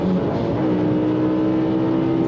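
A car engine drops from about 6,000 RPM on a downshift, a short, loud, close burst of buzzing engine tone whose pitch shifts and then holds steady.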